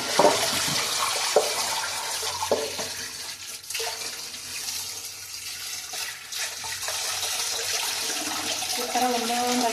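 Running tap water splashes steadily over fish being rinsed clean in a home kitchen sink ahead of frying, a continuous close wash of water with occasional handling clatter.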